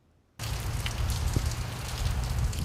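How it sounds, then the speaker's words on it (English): Steady rain shower starts abruptly and keeps up as a dense, even hiss of drops on surfaces at a memorial to World War II submarine veterans, with no voices. "Rain, a nuisance for some. Music to the ears of the men in the silent service."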